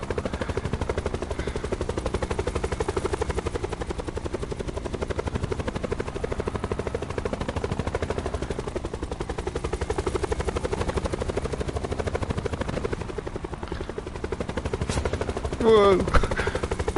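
Helicopter in Call of Duty Black Ops 4 Blackout, a steady loud rotor thump throughout, with a brief burst of distant gunfire near the end.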